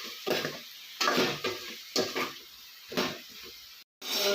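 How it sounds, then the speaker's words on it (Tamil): Chopped vegetables being mixed with chilli powder in a pan, a spoon scraping and knocking against the metal in four or five steady, close strokes, alone without talk. "இதை வந்து நல்லா மிக்ஸ் பண்ணி விட்டுக்கலாம்."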